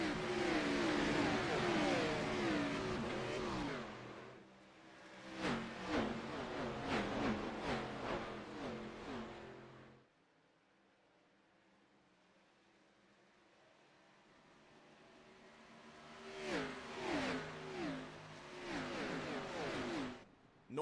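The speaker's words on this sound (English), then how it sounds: "eagerly awaits the rush of 16 stock cars to fly past with 35 laps remaining" A pack of 16 stock cars racing at Darlington roars past loud and close, engines revving as they fly by, then fades to near quiet before another group howls through.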